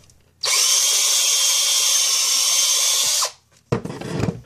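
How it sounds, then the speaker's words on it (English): A power drill whines loudly and steadily for about three seconds, stops, then a brief rough grinding follows as it bites again into a cooking oil filter. "After you drill a little bit, check the fit."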